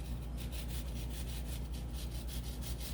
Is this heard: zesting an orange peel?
yes